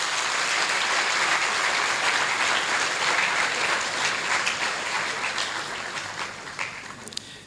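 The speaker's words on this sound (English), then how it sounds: "Shall we applaud him once again?" An audience applauds an inaugural lecture speaker at TVUCC, a steady wash of clapping that gradually thins and fades toward the end.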